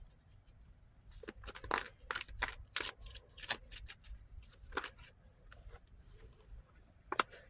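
Tarot cards being shuffled by hand at close range, a quiet run of irregular riffling and slapping bursts with brief pauses and a sharper snap near the end, no talking.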